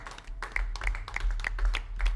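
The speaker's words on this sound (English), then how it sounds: "Clap for all the guys on the set." People on a show set clap together in a short, quick burst of applause, close and fairly loud, with a few sharper individual claps standing out.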